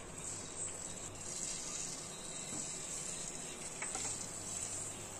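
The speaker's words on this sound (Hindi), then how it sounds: "देखिए फ्रेंड, ऑयल अच्छी तरीके से गर्म हो चुका है। गैस को मीडियम कर लेना है। अभी जलेबियों को डाल लेना है" Jalebi batter sizzling in hot oil on a medium flame, a steady, fairly quiet hiss and crackle running throughout, with a few small bubbling pops.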